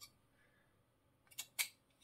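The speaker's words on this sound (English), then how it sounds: "I'm going to have to get my scissors out." Scissors cutting scrapbook paper strips, two quick close snips in a quiet room.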